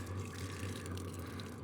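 Water pours from a jug onto a Hcalory 8KW all-in-one diesel heater toolbox unit, a soft continuous splashing trickle over a steady low hum from the running heater.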